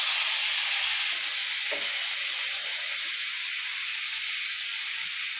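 Shrimp dropped into hot oil in a saucepan, producing a steady, loud hiss of frying that holds evenly throughout without pause.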